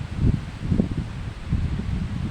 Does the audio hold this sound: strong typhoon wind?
yes